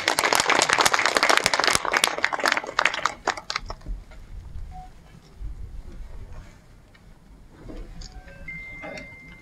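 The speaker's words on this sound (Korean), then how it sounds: "큰 박수로 맞이해 주십시오" Loud, dense applause from an audience welcoming a poet to the stage at a literary hall opening ceremony, breaking off after about four seconds into a quieter room with scattered noise.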